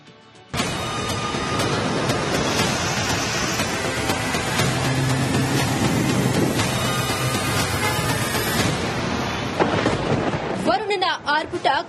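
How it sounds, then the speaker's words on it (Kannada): Heavy monsoon rain pours down in Karnataka with rumbling thunder, a loud continuous roar of rain that fills nearly the whole span. It drops away near the end, where a voice briefly comes in. "ಇನ್ನು ಕರ್ನಾಡಲ್ಲಿ ಮಳೆರಾಯ ಅಬ್ಬರಿಸಿ ಬೊಬ್ಬಿರಿಯುತ್ತಿದ್ದಾನೆ"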